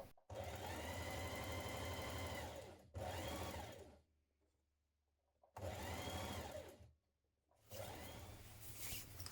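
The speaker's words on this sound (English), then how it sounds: "Now stitch the flat edges of your tie pieces together, right sides facing, with a 1 centimetre seam" A sewing machine stitches the flat edges of blouse tie pieces together, running in loud, close bursts of rapid mechanical whirring separated by short silent pauses, about four runs in all.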